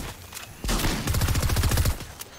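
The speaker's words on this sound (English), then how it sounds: "I just missed all those shots." Gunshots in the Fortnite video game: a single shot, then a rapid, loud, close burst of automatic fire lasting over a second before it cuts off.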